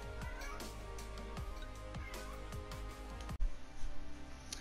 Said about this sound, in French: Ah, le chat qui pète un câble.